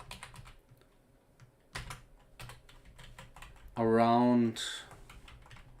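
Scattered keystrokes click on a computer keyboard, soft and close, in short irregular bursts, with someone speaking briefly midway through.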